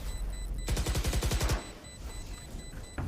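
Video game gunfire aimed at a box: a rapid, evenly spaced automatic burst of about a dozen shots lasting under a second, then quieter game noise and one final short shot.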